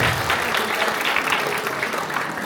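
Audience applause at a charity gathering in Plovdiv's Hilton hotel, a dense, steady wash of many hands clapping close by for the full stretch, with no voices above it.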